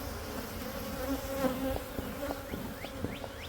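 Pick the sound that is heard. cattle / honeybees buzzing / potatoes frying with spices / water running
honeybees buzzing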